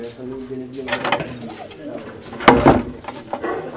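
Domestic pigeons kept by a fancier coo close by in soft, throaty rolling calls, with people talking in the background.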